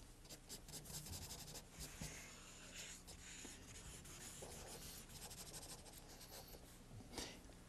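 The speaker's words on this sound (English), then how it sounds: "Show me how you draw Reagan" A pen sketching a cartoon of Ronald Reagan on paper, with continuous close scratchy strokes and rubbing in quick bursts and longer lines, fairly faint and without talk.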